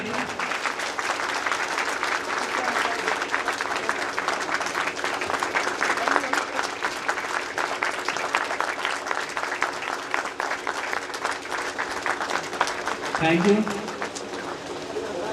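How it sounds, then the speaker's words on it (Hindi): A seminar audience at a motivational talk claps steadily and loudly for a guest being welcomed, a long continuous patter of hands, with a voice briefly rising near the end. "प्लीज जोरदार ताली"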